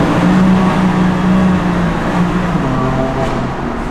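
A BMW M3 engine drones and pulls inside a tunnel, a sustained loud hum with a steady low tone that eases slightly toward the end, no voices.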